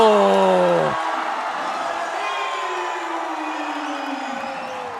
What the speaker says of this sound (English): I just had to pause for a bit so you could hear the noise